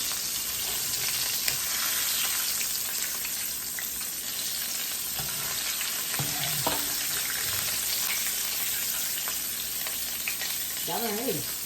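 Small pieces of food fry in hot oil, making a loud, constant sizzle with frequent crackles and pops throughout, and a brief bit of faint speech near the end.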